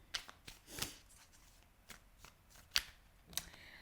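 Tarot cards shuffled by hand, quiet crisp riffles and slaps in short irregular bursts, close up and faint.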